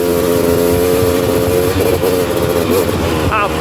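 A fully rebuilt Honda TRX330R ATV engine roars loud and close while pulling wheelies on a wooded trail, holding a steady high drone before surging through quick rising revs near the end.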